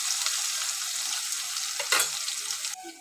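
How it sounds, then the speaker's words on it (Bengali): Onions fry in oil until browned, a steady close sizzle and hiss with a stir or scrape near the end, then the frying quietens; no one speaks. "পেঁয়াজটাকে আমি লাল লাল করে ভেজে নেব।"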